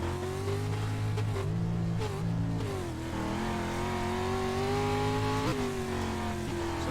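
Street stock race car engines rev hard and accelerate at the green flag at Lanier in the iRacing sim. Loud, layered engine whines rise and fall with gear changes, close and continuous, with no talk.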